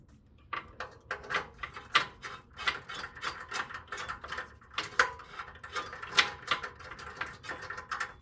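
A nut is threaded onto an exhaust stud of a 2008 Acura MDX, a close run of quick metallic ratcheting clicks in steady bursts.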